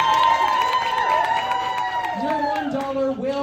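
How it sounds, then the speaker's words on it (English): Comedy club audience applauding and cheering a team at the end of a game, crowd noise and clapping spread across the room, with voices and tonal whoops riding over it. "Round of applause for team and round of applause for Madison."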